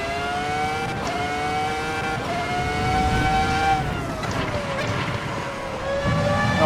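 A Ferrari F2004 Formula 1 engine screams around the Nordschleife in the Assetto Corsa EVO racing game, holding a loud, high, sustained whine that rises and dips with gear changes and throttle lifts.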